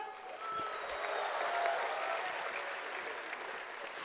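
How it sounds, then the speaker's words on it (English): An audience of university students at a campus language festival gives a sustained round of applause for a welcomed guest, with dense clapping that swells and stays steady, a few faint cheers mixed in. "A louder round of applause"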